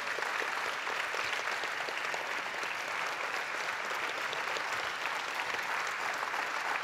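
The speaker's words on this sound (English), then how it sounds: "I request everybody to stand up and give a big clap to all our masters." Sustained crowd clapping for the masters at the opening ceremony of the 11th Global Festival of Spiritual Sciences, even and dense throughout, with many hands blending into one continuous roar and no voices on top.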